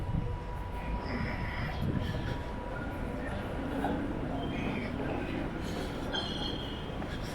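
Steady rumble of an Amsterdam tram in motion, heard from inside the carriage, with faint rail clinks and a thin wheel squeal in the background and no voices.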